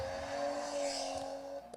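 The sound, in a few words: car engine and exhaust revving from a TikTok video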